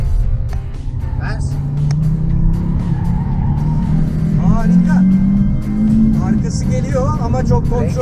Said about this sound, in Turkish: sert bir frenle girdik bu viraja.